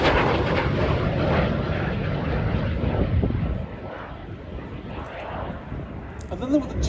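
A two-seat T11 jet trainer at an air and country show flying display, its engine giving a broad roaring rush that slowly fades into the distance, with a commentator speaking over it.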